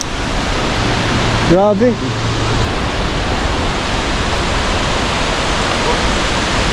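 Hulugan Falls in Laguna pours as a loud, steady broadband roar that fills the whole stretch, with a brief shouted voice cutting in over it.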